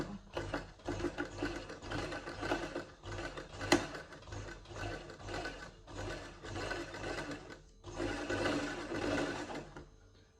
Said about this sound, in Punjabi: ਹੌਲੀ ਹੌਲੀ ਮਸ਼ੀਨ ਜਿਹੜੀ ਹੈ ਚਲਾ ਕੇ